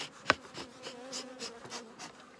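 Honey bees buzz around a busy, well-populated hive while it is opened for inspection, a faint, steady drone with one sharp click near the start.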